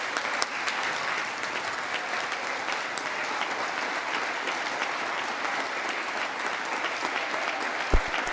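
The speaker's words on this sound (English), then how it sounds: "And there come the customary claps." Members of Congress applaud during Biden's address, a sustained, even wash of many hands clapping in a large chamber, with a brief louder thump near the end.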